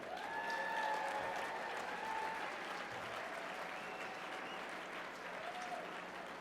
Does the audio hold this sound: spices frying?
no